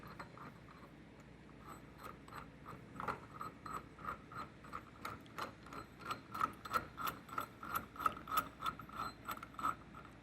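A part being screwed into the center of a gearbox shaft during a Toro 4500D rear gearbox rebuild, a quiet steady series of rhythmic ratcheting clicks, close and faint.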